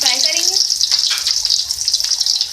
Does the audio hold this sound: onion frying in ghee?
yes